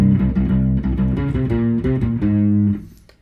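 A U-Bass plays the next measure of a metal song, a run of clear plucked low notes in sixteenth- and eighth-note rhythm. It sounds close and alone, ending on a held note that fades.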